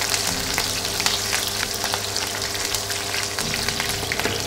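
Green chillies frying in hot oil with golden chana dal and urad dal, a steady dense sizzle with faint crackles running throughout, close and alone without voices.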